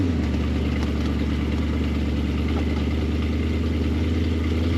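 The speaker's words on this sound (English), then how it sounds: "Very responsive to the throttle, being so lightweight, and having that V8." V8 engine of a lightweight 1994 Ford T-Bucket hot rod driving, a loud, close, steady low rumble that holds an even throttle throughout.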